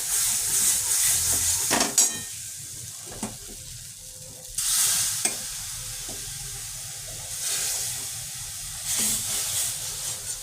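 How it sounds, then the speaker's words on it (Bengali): Chicken stock poured into a pan of flour for cream of chicken soup, giving a loud hissing, steamy sizzle in bursts with quieter stirring and scraping between, no voices. "চিকেন স্টক দিচ্ছি আমরা, বেশি করে দেবেন চিকেন স্টক"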